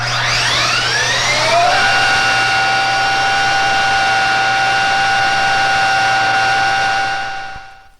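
A gear transmission on a hydraulic helicopter test stand spins up from rest to 25,000 RPM under a 1,000-horsepower load, a loud roaring whine whose tones sweep rapidly upward and then hold steady before fading at the end.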